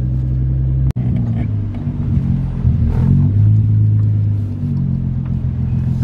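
A Nissan 350Z engine idles with a steady low rumble and a brief rise around the middle, interrupted by a sharp click, while someone talks over it.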